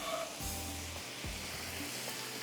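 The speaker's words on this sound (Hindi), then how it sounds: "इसकी करेंगे थोड़ी भुनाई, ये देखें, ताकि ये कीमा हमारा रेडी हो जाए।" Keema cooked with ginger and green chillies fries in a pan, a soft steady sizzle with faint stirring scrapes, no talking.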